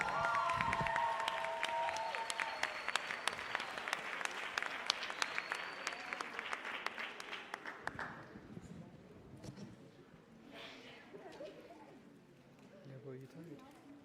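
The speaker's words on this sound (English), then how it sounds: "Let's take a round of applause." A crowd at a school poster competition award ceremony claps loudly and continuously for several seconds; the applause then fades as a voice talks over the quieter room.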